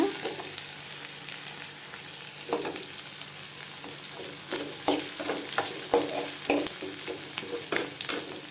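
Garlic and tamarind sauté in a pan for mint chutney, a steady soft sizzle broken by scattered scraping stirs of a spoon, close and unhurried.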